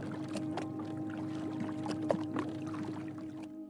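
A boatman rows a wooden boat across water, with quiet splashes and swishes of the oar over a low, steady hum, close and fairly faint.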